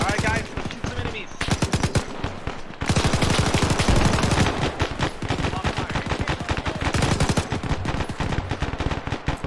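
Dense, loud gunfire in the military shooter ArmA, with rapid automatic bursts and repeated shots rattling almost continuously and barely a pause throughout.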